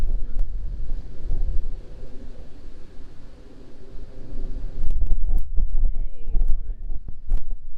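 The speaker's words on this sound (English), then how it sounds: "that's a lot of wind" Strong wind gusting outdoors around a churchyard, buffeting the microphone with loud rumbling roar that swells and eases, with a few sharp knocks and people talking faintly beneath.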